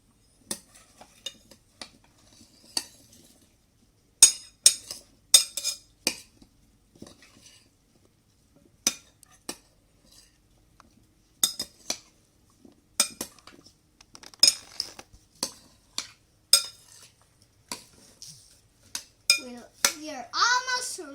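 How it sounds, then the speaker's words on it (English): Fruit salad is stirred in a bowl with a utensil, producing scattered clinks and scrapes at irregular intervals, close and clear, with quiet gaps between strokes and a short voice near the end. "Now we're gonna mix it."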